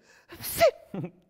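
Someone narrator imitates a guard's sneeze with his voice: a sharp breathy burst with a rising inhale before it, then a short vocal release, close and alone.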